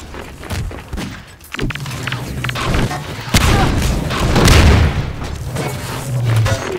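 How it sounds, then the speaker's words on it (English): A barrel explodes in Half-Life 2: Deathmatch with one heavy boom partway through, set among gunshots, thuds and footsteps during fast multiplayer combat. "Explode a barrel."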